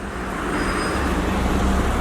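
Steady low engine rumble of a bus idling amid continuous street traffic noise in Verona, Italy, fairly close, with no talking.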